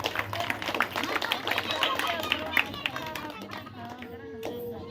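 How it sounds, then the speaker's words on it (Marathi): Applause from an audience at a school gathering and prize distribution, a sustained patter of many clapping hands that fades toward the end, with voices in the background. "सर्वांसाठी पुन्हा एकदा जोरदार टाळ्या वाजवूया"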